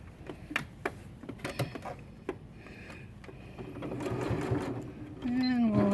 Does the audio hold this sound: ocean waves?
no